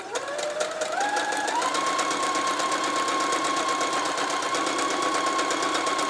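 A sewing machine stitches a 60-degree diamond quilt, its motor whirring steadily with a rising pitch as it speeds up, then running at an even, continuous rate close by with no talking.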